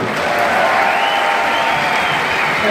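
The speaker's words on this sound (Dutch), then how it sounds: "Eén groot applaus voor Evelien." Crowd applause and light cheering at a homecoming celebration for a Paralympic athlete, steady dense clapping that stays loud throughout.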